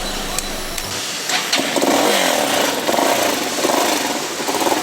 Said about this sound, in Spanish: Vamos a escuchar el sonido del motor.